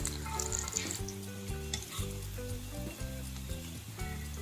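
Vegetable pocket samosas fry in hot oil until brown, giving a steady crackling sizzle that runs throughout beneath a low, tonal background layer.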